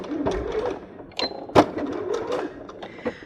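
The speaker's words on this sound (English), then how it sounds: "just stitch these sides together just inside that hemmed edge" Sewing machine stitching the hemmed sides of a simple knot strap bag, a soft quick whirring run with small mechanical clicks and a sharper tap midway, fairly faint and close.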